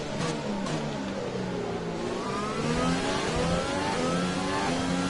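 A Formula 1 car in the F1 2020 racing game accelerates hard at the Azerbaijan Grand Prix using overtake boost, its engine a loud, steady rising whine with climbing harmonics through the gear changes, filling the whole stretch without talk.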